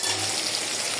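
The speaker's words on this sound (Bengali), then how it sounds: "পেঁয়াজ কুচি টমেটো কুচি দিয়ে দিলাম, এখন দিয়ে দেব সব ধনিয়াগুলো ভালো করে ভেজে নিব" Chopped onion, tomato and coriander sizzle steadily in a pan, a close, continuous broadband frying hiss with no talk.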